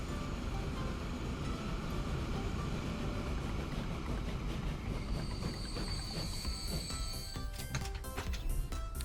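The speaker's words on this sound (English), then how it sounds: "our wood train here, or our log train." A log train in Transport Fever 2 runs on rails, a steady loud rumble of wagons with rhythmic clicking wheels, building into high metallic squeals and rapid clacks near the end.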